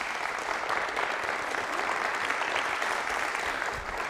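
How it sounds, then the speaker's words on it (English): An audience at a college alumni speaker-series talk on Salish cultural history applauds a young lady, a steady wash of clapping that stays dense and even throughout, with no talk over it. "I want you to give this young lady a round of applause."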